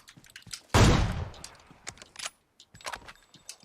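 A single loud gunshot in PUBG with a decaying tail, followed by scattered quieter clicks and clatter, close and otherwise sparse.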